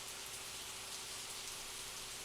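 Steady rain falls outside a window, a continuous, even hiss of drops with no voices, holding at the same level throughout.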